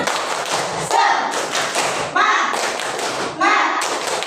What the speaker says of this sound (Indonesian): mari kita tepuk semangat dulu ya. Tepuk semangat.